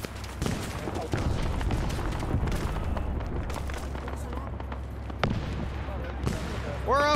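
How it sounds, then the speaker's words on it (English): A grenade explosion and surrounding battle noise in a Vietnam War game at Khe Sanh, a sharp boom amid scattered gunfire and bursts, with voices talking over the combat. "Then throw your grenade."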